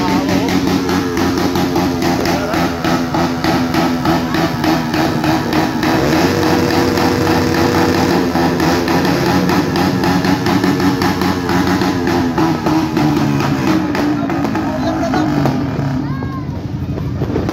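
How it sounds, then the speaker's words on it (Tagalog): A stock Honda RS 150 motorcycle engine revs hard and close, its buzzing drone holding steady and loud throughout amid an outdoor crowd at a year-end bike gathering. "Sobrang lakas ng motor mo kahit stock lang, grabe mama"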